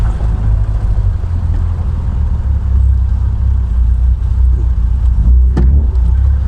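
A steady low engine rumble from a Triumph Vitesse Mk2 classic car on the move, continuous and fairly loud, with wind and road noise mixed in and no voices.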